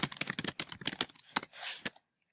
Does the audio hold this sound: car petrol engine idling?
no